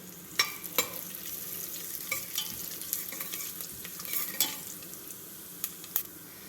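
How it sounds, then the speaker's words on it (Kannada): Cumin seeds, a bay leaf and cinnamon frying in hot oil in a pan, a soft steady sizzle with occasional sharp spatters and light stirring clicks, close and fairly quiet. "ಎಣ್ಣೆ ಬಿಸಿಯಾಗಿದೆ. ಈಗ ಇದಕ್ಕೆ 1 ಚಮಚ ಅಷ್ಟು ಜೀರಿಗೆ ಹಾಕ್ತಾಯಿದ್ದೀನಿ."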